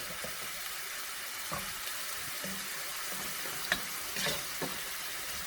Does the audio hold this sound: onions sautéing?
yes